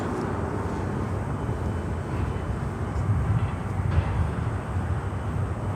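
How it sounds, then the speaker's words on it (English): An Avianca Cargo airliner taxis into a cargo bay in Miami, a steady low jet engine rumble and roar that holds at a moderate distance and swells slightly as it draws nearer. "Avianca Cargo pulling into the cargo bay"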